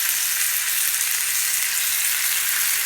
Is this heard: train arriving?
no